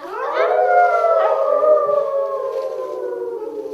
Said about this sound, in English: on the full moon, you hear the strange howling of the coyotes